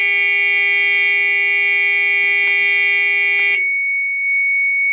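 A warning buzzer in a Toyota Hiace van with a 1UZ-FE engine sounds as a loud, steady electronic tone, then switches to a thinner single pitch that holds to the end, with a few faint clicks.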